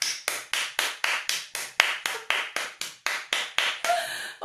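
An audience claps in a strong, even unison rhythm for a makeup teacher, about a dozen crisp beats roughly three per second, close and loud with no talk.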